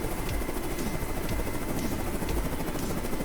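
A Razorbill helicopter in a naval video game thrums with a steady, dense rotor drone that stays loud and unbroken throughout, with no voices over it.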